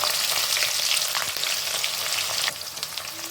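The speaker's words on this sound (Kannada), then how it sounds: "ಇದಕ್ಕೆ ಬೆಳ್ಳುಳ್ಳಿ ಆದಷ್ಟು ಚೆನ್ನಾಗಿ ಫ್ರೈ ಮಾಡಬೇಕು, ಹಸಿ ವಾಸನೆ ಹೋಗೋವರೆಗೂ." Garlic frying in oil in a pan for a fenugreek gojju: a steady, loud, bright sizzle that continues without a break, dropping slightly in level near the end, with no talking.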